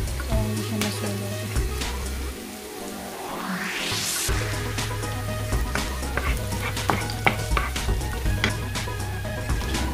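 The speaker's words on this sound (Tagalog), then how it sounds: "Nagluluto na yung sibuyas." Onions sizzle in a hot pan at the start of a chicken adobo with pineapple chunks, a steady crackling fry with intermittent louder pops and a brief rising whoosh midway.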